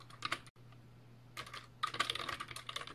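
Typing on a computer keyboard while working in an Excel spreadsheet, heard as irregular bursts of close, quick clicking keystrokes with a short pause before a longer run of typing and a steady low hum underneath.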